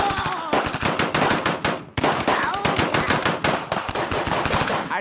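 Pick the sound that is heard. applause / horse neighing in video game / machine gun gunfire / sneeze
machine gun gunfire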